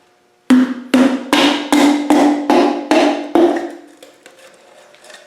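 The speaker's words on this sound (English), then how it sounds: "then we'll tap it down with the hammer" Seven sharp hammer taps drive a piston and connecting rod down into a 2.25 engine block, each strike ringing briefly before the next at an even pace, close and loud, then fading into quieter rattles.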